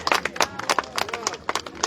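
Festive crowd at a village celebration in Apata-Pariahuanca clapping together in quick, uneven bursts of applause, fairly close and lively, with voices mixed in.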